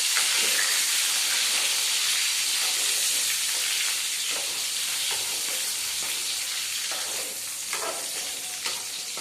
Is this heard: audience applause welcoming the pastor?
no